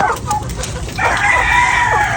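Rooster crowing loudly close by with chickens clucking around it, a single crow rising over the brief, busy farmyard fowl sounds.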